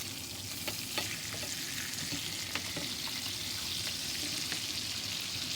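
Salmon fillet frying in a hot pan, with a steady, bright, continuous sizzle and a few small pops and spatters, close by and uninterrupted by speech.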